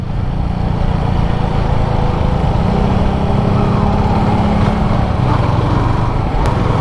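A Yamaha XSR155 motorcycle engine on a test ride holds a loud, steady droning hum around mid revs with wind rush, continuous throughout and without talking.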